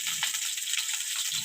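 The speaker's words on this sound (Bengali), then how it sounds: "তেলের উপর দিয়ে ঝিঙেটা ভেজে নিচ্ছি" Slices of ridge gourd frying in hot oil in a pan give a steady, close sizzle with a bright, hissing crackle that runs the whole time and has no voices over it.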